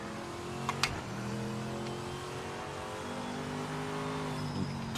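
Race car engine in the video game Project Motor Racing revving and holding a high, steady drone with shifting pitch, loud and alone with no talk.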